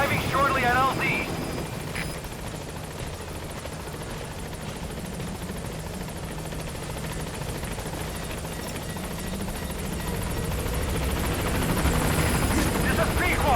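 Helicopter from Metal Gear Solid V, the B-Quad transport, arriving at a landing zone: a loud, steady rotor roar with a whirring engine that holds throughout and swells slightly near the end, with a radio voice faintly under it.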